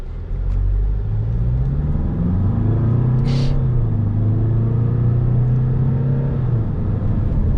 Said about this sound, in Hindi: अब मैं आपको बताता हूँ कि इसकी पिकअप कैसी है, यहाँ से आपको पता चल जाएगा कि इसका इंजन कितना रिफाइंड है।